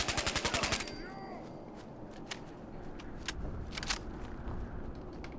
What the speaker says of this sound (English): And I'm still getting shot.